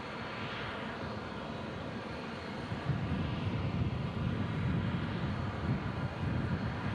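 Aircraft engine drone at Omaha Eppley Field, a distant steady rumble that grows louder partway through as a Cessna flies past.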